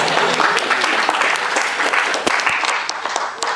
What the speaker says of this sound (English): How about a round of applause for our maidens?